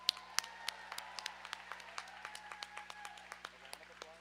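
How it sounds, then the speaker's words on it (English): Spectators at a roller derby bout clapping for the volunteers and officials: faint, evenly paced claps sound in a large venue while a voice speaks over them. "And another big round of applause for all of our officials,"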